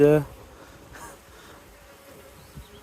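Soft, steady buzzing of honeybees at an open hive during a colony split hums quietly in the background, with a brief louder burst at the very start.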